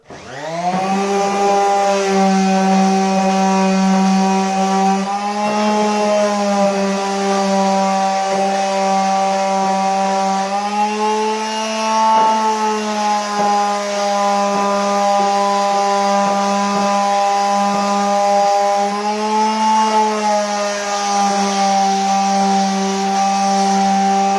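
A power sander strips the finish from a kitchen cabinet with a loud, continuous motor whine. Its pitch wavers slightly as pressure shifts along the edges, and no one speaks.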